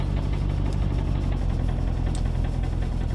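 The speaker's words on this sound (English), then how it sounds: "As you can hear there, the locomotive has started up and running." A locomotive engine runs steadily in the train game Loco Shortline, giving a continuous low rumble with a faint mechanical pulse and no talking.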